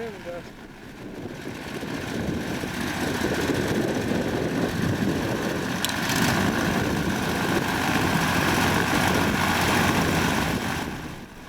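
A 14-foot hovercraft's engine and propeller drone steadily at close range, a broad continuous roar that swells slightly and holds with wind noise across it.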